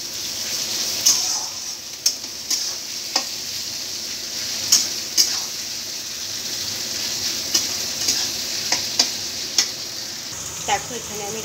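Onions hit hot oil with chili and cumin, giving a steady broadband sizzle with sharp crackles and spits scattered throughout, close and fairly loud, with a few stirring clatters near the end.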